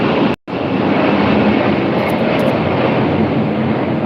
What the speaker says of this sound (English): That's the loudest airplane I've ever heard.